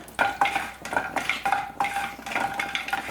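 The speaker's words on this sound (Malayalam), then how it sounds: "ഒന്ന് ഇളക്കി കൊടുക്കാം. കാഷ്നട്ട് ചെറുതായിട്ടൊന്ന് റോസ്റ്റ് ആയിട്ട് വരുന്ന ഒരു സമയത്ത്" A handful of cashew nuts roasting in oil for spinach rice, stirred with a metal spoon that makes repeated close, rhythmic scrapes and clinks against the pan over a light sizzle, with no talking.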